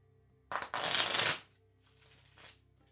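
Tarot cards riffle-shuffled close by in a quiet room, one long crisp burst of rapid flutter, a brief pause, then a second softer shuffle.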